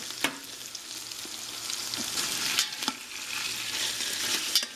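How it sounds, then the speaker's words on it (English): Beef browning in a pot for stew gives a continuous close sizzle, with occasional sharp scrapes and clinks of a utensil stirring the meat. "Alright, my meat is browning."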